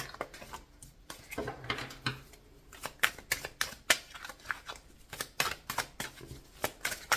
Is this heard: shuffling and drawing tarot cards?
yes